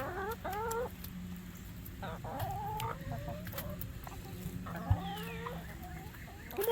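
Backyard hens cluck and squawk in short rising calls while being tossed food, fairly close and moderately loud, with a few scattered sharp knocks and a faint voice now and then.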